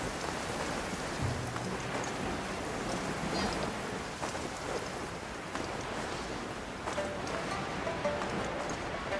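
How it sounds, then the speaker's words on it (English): Steady downpour in the Genshin Impact game world, a continuous dense hiss of rain on surfaces that fills the whole stretch, with faint low rumbles that could be distant thunder. "Taking a stroll in the middle of a downpour certainly rouses the spirit."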